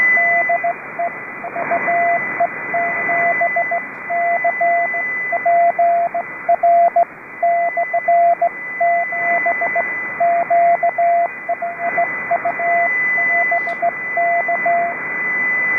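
Morse code CW signals on an amateur radio net, a steady keyed tone tapping out dots and dashes in rhythmic bursts over a hissy, band-limited radio channel, continuing for the whole stretch without speech.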